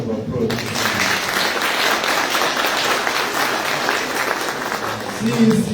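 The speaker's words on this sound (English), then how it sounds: "Another round of applause." A conference audience breaks into sustained applause, a dense, steady wash of many hands clapping that carries on for several seconds at full strength.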